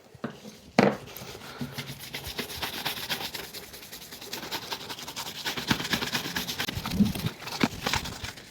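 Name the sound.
applying black Kiwi shoe polish to leather shoes with applicator brush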